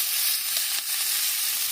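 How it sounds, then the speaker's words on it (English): Meat sizzles on a Ninja Woodfire grill, a constant bright crackling hiss close by, with a few louder pops and no talking. "And then listen to that sizzle."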